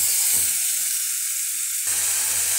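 Ground tomato paste from two medium tomatoes added to hot, sizzling masala for a boiled egg fried masala, giving a loud, steady hissing sizzle that briefly drops and then swells again.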